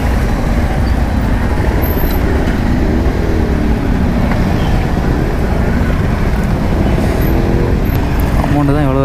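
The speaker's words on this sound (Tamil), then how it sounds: "அது வரையும் ஃபுல்லாக டிராஃபிக் தான்." Heavy road traffic in Chennai, a dense continuous roar of cars, buses and trucks close by with engine rumble, occasional horn-like tones and a brief air-brake hiss near the end.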